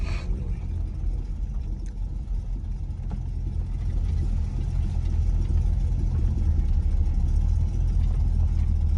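A 1966 Oldsmobile Toronado barn find drives on the road under its own power for the first time in 23 years. A steady low engine and road rumble continues throughout, dense and unbroken.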